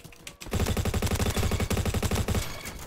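A Honey Badger rifle fires in a video game, a fast sustained automatic burst of sharp, punchy shots lasting about two seconds. It plays loud and close, then cuts off.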